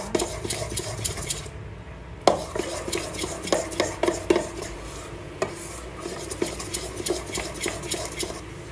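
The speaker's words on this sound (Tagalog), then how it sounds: "Haluin mo pa siya." A spoon stirs a mixture in a bowl, producing continuous scraping and rubbing with frequent light clinks against the sides, close and steady throughout with no talking.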